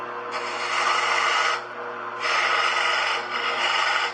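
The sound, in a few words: lathe tool pushed into spinning wood, cutting a tenon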